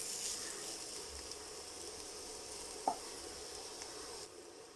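Potatoes with turmeric and chili powder cook in a pan, giving a faint, steady sizzle with one soft stirring clink, quiet and without talk.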